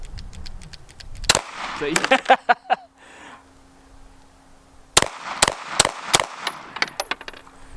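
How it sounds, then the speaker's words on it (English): Gunshots from a Bear Creek Arsenal Grizzly 101 rifle with a malfunctioning trigger that fails to reset: a loud burst of rapid shots, a brief quiet stretch with a short remark, then several more sharp, widely spaced reports. "If I keep pulling, I bet it'll fire."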